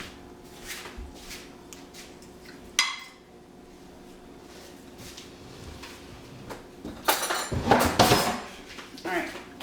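Cutlery rattles as a spoon is fetched from a kitchen drawer while baking pumpkin muffins, with a sharp clink near the start and a louder burst of metallic clatter and rummaging toward the end, against a quiet room hum.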